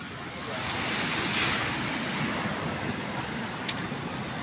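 Steady wash of ocean surf at Selong Belanak beach in Lombok, a continuous broadband roar with wind, heard at moderate distance with a single faint click near the end.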